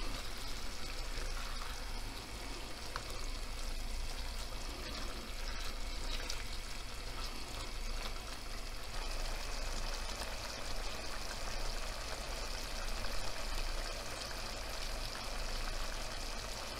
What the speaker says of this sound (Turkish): Şimdi bu suyu çekene kadar kavurma işlemine devam edeceğiz.